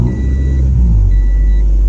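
A Jeep XJ Wagoneer Limited with its check engine light on runs at idle, giving a loud, steady, deep engine rumble heard up close with no voices over it.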